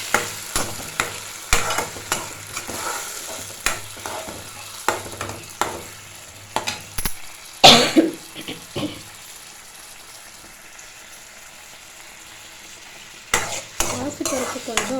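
Cooked moong dal stirred into onion and garlic frying in oil, with repeated sharp scraping strokes of a spoon against the pan over a low sizzle, pausing partway before the stirring resumes, no talking.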